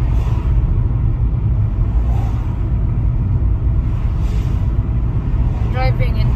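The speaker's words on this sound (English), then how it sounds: "Driving in tarmac is smooth," Small hatchback car cruising slowly on smooth tarmac on a sunny day in Weymouth, England: a steady low road rumble and engine hum fill the cabin throughout, with a brief faint voice near the end.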